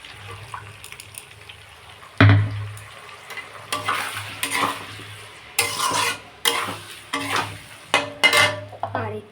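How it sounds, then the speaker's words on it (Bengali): Cauliflower frying in a pan gives a low sizzle, broken by bursts of louder stirring and scraping, with some running-water sounds mixed in. "এই দেখুন বেশ ভাজা হয়ে গেল ফুলকপিটা"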